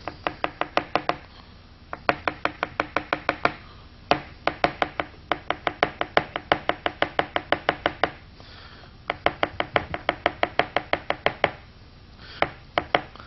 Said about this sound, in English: And just chop these up as we need them.